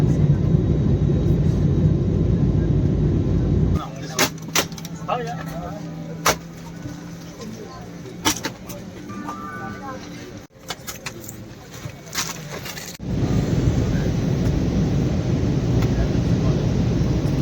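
A jet airliner on a flight from Chennai to Hungary roars during its takeoff run, a loud steady engine rush that cuts off into quieter cabin noise with scattered clicks and rattles before the heavy roar returns.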